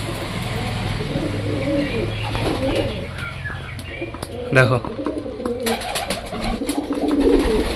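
Pigeons, including a newly bought lame wild pigeon in a new loft, coo repeatedly at close range with occasional wing flaps, while a person talks over them.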